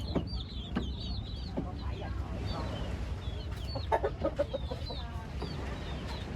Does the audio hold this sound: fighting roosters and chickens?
yes